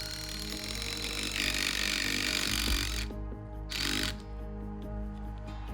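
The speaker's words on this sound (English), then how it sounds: "Then we inserted the anchors and drilled down into the ground" Ground anchors are drilled down into the soil for a gravel pad shed foundation, a faint mechanical whir with two louder grinding bursts that then fade.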